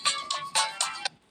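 A phone ringtone plays as a short, bright, repeating electronic chime in a few quick bursts, clear and close.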